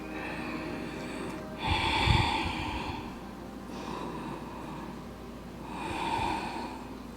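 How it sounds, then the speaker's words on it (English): Slow, deep yoga breaths are drawn in and let out while a half moon balancing pose is held. The airy inhales and exhales are close and clear, come in two long cycles, and have no talking over them. "we breathe in and out"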